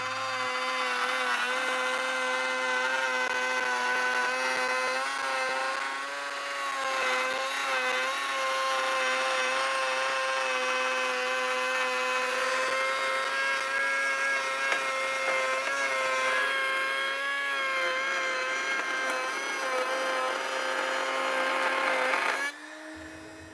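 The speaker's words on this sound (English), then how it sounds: "I've got a straight cutting bit in my router, and it's tucked part way into a wooden sacrificial fence on my router table." A router with a straight cutting bit, set partly into a wooden sacrificial fence on a router table, cuts a channel in spalted maple for a picture frame, a loud continuous whine that holds steady for over twenty seconds before stopping.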